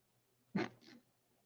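A small dog gives a single soft bark or huff, a short breathy burst with a brief second puff right after, close but quiet, then silence over a low hum.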